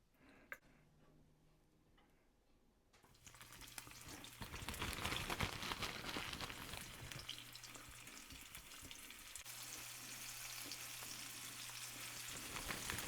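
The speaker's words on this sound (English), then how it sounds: "just sear your meat and saute the onions before putting them in the crock pot" Stew meat sears in hot oil in a crowded pan, a steady loud sizzle and crackle with faint ticking spatters, building after a quieter start and continuing without talk.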